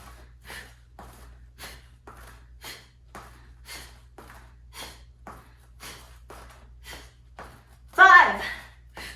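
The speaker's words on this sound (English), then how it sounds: "Little exhales every time you tuck a knee." Short, rhythmic breathy exhales repeat steadily through a mountain climber exercise, one with each knee tuck, fairly soft, followed by a louder gasping breath near the end.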